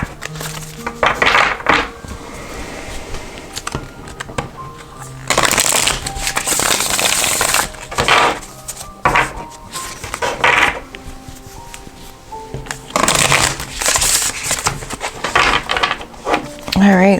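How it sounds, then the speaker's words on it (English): Tarot cards being shuffled close up in several bursts of riffling and flicking, separated by quieter pauses, with someone speaking softly at times between them. "I'm going to go ahead and shuffle."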